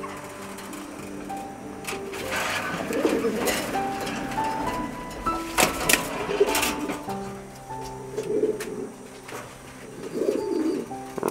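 A pair of pigeons coos softly in repeated low, throaty phrases, fairly close, against a quiet background with faint other noises.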